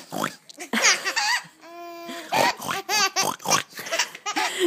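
A person imitates a pig's oink with snorting grunts, and a baby laughs loudly in bursts around the imitation.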